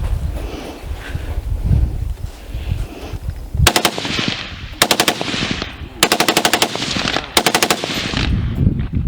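Automatic gunfire at a special weapons training center, four sharp rapid bursts of loud close shots separated by short gaps, over wind noise and low rumble.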